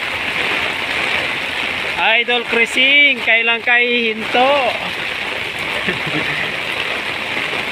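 Heavy typhoon rain in the Manila area, Philippines, pours down in a constant dense roar throughout, while a person speaks briefly in Filipino over it.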